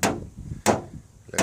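A hammer tapping a 1995 Ford F250 truck body panel during front-end bodywork, three sharp metallic taps spaced about two-thirds of a second apart, close and clear.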